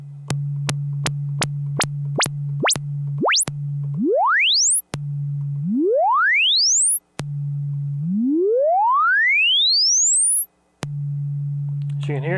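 Minimoog synthesizer demo of the envelope attack: a steady low tone is retriggered in short repeated notes, then longer notes sweep upward in pitch, the rises stretching out slowly before the tone drops back, with no one talking.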